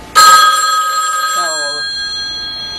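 A telephone rings sharply and close during a 1985 interview, a bright electronic bell tone that starts abruptly, rings steadily and then slides into a lower warbling pattern, with no voices over it.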